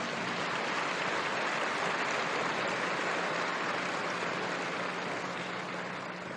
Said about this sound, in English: Give them a lot of applause